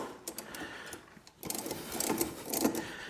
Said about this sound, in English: 15 millimeter ratchet wrench, put it in loosening mode.